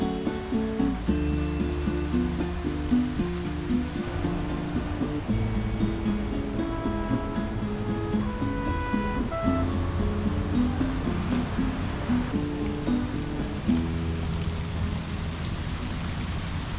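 A big waterfall at Paronella Park pours with a constant broadband rush, steady and moderately distant, with faint tonal sounds layered over the water's hiss.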